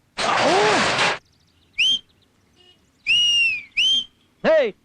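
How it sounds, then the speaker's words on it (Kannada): A person whistles in short, bright bursts: four separate tonal whistles, some gliding up or down in pitch, separated by brief pauses and preceded by a longer breathy vocal sound. "ಯಾವನ ಎಂಬಲ್ ನೋಡಿ ಸೀಟಿ ಹೊಡಿತಾ ಇರೋದು?"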